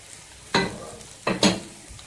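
Peppers fry in a pan with spices and a garlic clove, two sharp bursts of sizzling and stirring heard close over a quiet background with no talk.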